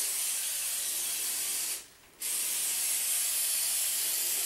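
A steady, close hiss of cooking spray onto pita bread on a baking sheet, with one brief pause in the middle, then the spraying continues.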